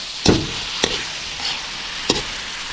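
Bagoong shrimp paste fries in oil in a pan, a steady sizzle broken by a few sharp stirring scrapes and clacks spaced about half a second to a second apart.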